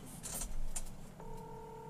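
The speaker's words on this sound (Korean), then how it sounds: "일단 세경님한테 전화 중이야." Telephone dialing tones as a call is placed, a steady two-tone beep coming in after a short burst of muffled handling noise, moderately quiet and close.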